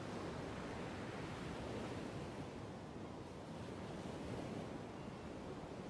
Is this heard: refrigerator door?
no